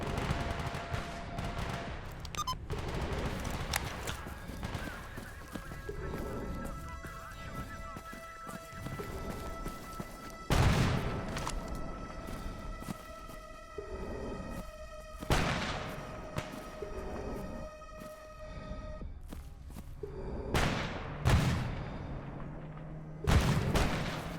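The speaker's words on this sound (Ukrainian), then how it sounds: "Та хто ж там стріляє то?" Bursts of gunfire crack repeatedly over a continuous droning, tonal soundtrack in the video game S.T.A.L.K.E.R. Anomaly, with sharper loud shots landing near the middle and end.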